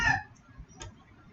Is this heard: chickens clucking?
yes